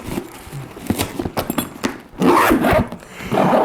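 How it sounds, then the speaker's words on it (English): A zipper on a travel cosmetics case is drawn along in short scratchy bursts, followed by longer, louder rasping pulls as the case is closed, heard close up with no talking. "is that everything zips up."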